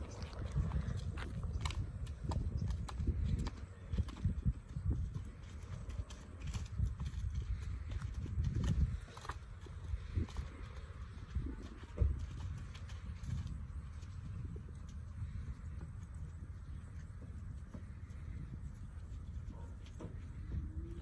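A horse lopes through small mud holes on a trail, its hooves clip-clopping in a steady, close rhythm with soft squelches and occasional snorts, heard alone with no talk.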